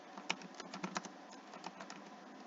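Typing on a computer keyboard, a quick irregular patter of light key clicks with a few sharper strikes, fairly close and alone in a quiet room.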